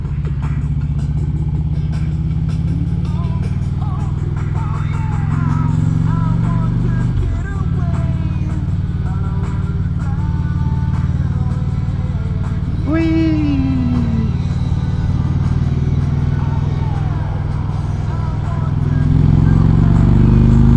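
Harley-Davidson motorcycle riding along a road, a steady loud engine drone with road and wind rush throughout, music playing from the bike's audio system, close to the rider.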